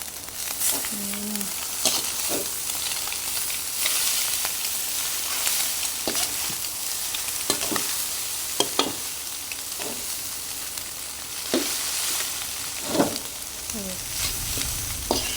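Garlic fried rice with egg sizzling and frying in a pan, with repeated scraping stir strokes of a spatula throughout, steady close hiss underneath.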